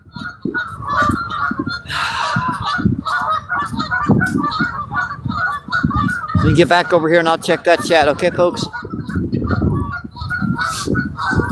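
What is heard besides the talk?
geese honking loudly by a lake shore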